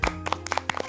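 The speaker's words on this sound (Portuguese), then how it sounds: "Muito bem, uma salva de palmas." Children clapping during a Lenten prayer gathering, a short burst of a few quick, close hand claps with uneven rhythm.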